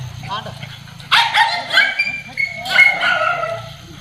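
Dogs at a dog training centre in Kerala bark and yip in two loud, close bursts, with a faint whimper before them and low background noise.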